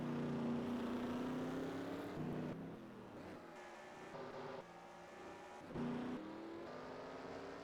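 Stock cars race on a road course in the NASCAR Racing 2003 video game, a steady engine drone with pitch rising and dropping as cars shift and pass, mid-distance and continuous, no talk.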